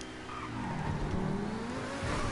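An Inferno car in GTA V driving along, with a steady engine drone that rises slightly in pitch as it accelerates, continuous and close, with no voices.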